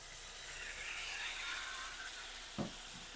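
Masala sizzling in a frying pan after a little water is added, a steady hissing spread through the clip, with a couple of brief knocks of the spatula near the end.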